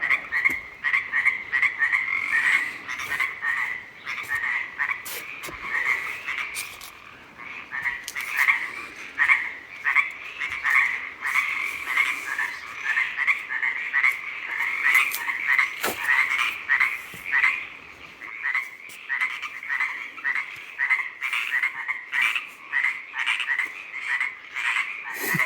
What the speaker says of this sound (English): Evening croaks, I love it.